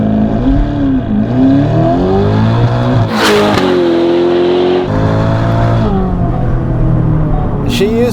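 A 704hp Novitec-tuned Ferrari Roma with a brutal exhaust launches hard, its engine climbing through loud, rising revs, briefly cutting at a gearshift with a crackle, then pulling again up close.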